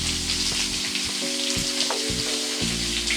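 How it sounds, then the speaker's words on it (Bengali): Potatoes and papaya fry in a pan with salt, giving a steady hiss and crackle with a few low tonal hums running underneath. "এবারে নুনটা দিয়ে আবারও কিছুক্ষণ ভেজে নেব"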